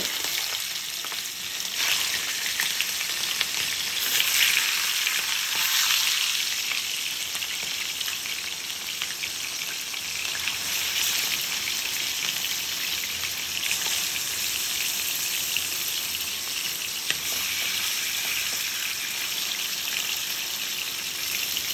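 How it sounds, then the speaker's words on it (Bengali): Chicken frying in hot oil, a loud, steady, close sizzle with constant fine sputtering and occasional bursts of spitting, sustained without talk. "এই ভাজতে গেলে এত ফুটে"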